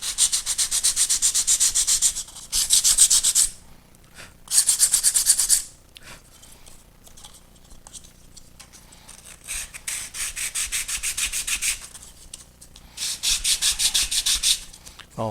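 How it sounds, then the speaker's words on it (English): Balsa wing center section of a model P-40C Tomahawk airplane sanded by hand in several rhythmic bursts of close, dry rubbing, separated by short quieter pauses. "Also supporting the back of it with my fingers here as I sand it."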